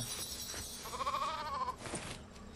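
Sheep in the LEGO Fortnite video game, giving one wavering, quavering bleat lasting under a second, fairly close and clear over faint background noise and a few soft clicks.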